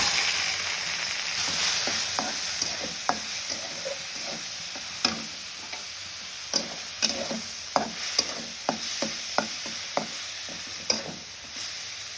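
Red amaranth greens frying in oil with chopped garlic, onion and a little cumin, a steady close sizzle broken by a series of sharp utensil scrapes and knocks against the pan, with no voices.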